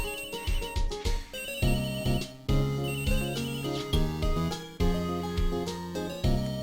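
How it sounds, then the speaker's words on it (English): A phone rings in the Phoenix Wright video game. The synthesized ringtone plays a loud, repeating melodic chime in even pulses the whole time, with no voices. "Is that her answering? Because that's her phone,"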